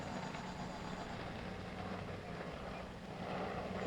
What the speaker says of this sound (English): Got an airplane coming in.